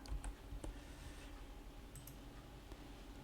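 Soft, quiet typing on a computer keyboard in a room, a few light clicks near the start and then a steady faint patter of keys with no talking.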